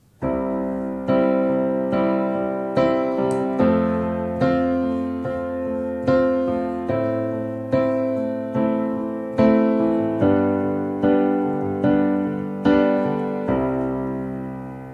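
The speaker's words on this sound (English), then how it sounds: "I'm going to assume that you want to accompany yourself singing on the piano." Piano chords struck one after another in a steady, even rhythm, each ringing out and fading before the next, with no voice.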